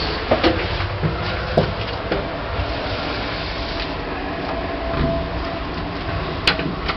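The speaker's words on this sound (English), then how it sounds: "Lift going down." An old Bennie lift descending: a steady mechanical rumble and hum runs throughout, with a few faint clicks and knocks along the way and no voices.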